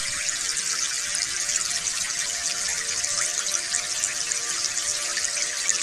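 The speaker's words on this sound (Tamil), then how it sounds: "தண்ணி எடுத்து ஊத்துங்கடி தலையில" Water pours and splashes steadily over someone's head at a household celebration, a continuous close hissing gush lasting several seconds with no talk over it.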